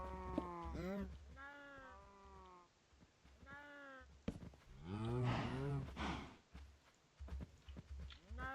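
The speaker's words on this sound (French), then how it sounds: "Bon, c'est quand même des vaches." Minecraft cows moo in several drawn-out lowing calls inside a pen, heard close and fairly loud amid game sounds, with someone talking over parts of it.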